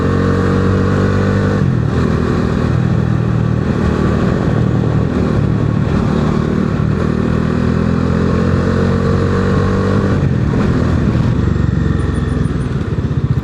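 A motorcycle engine idles and revs close by amid traffic, a steady droning rumble with occasional surges and clattering, no talking.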